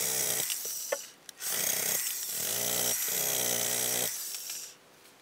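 A power grinder works on car windshield glass, whirring in several bursts of a few seconds each with brief pauses between, close and fairly loud.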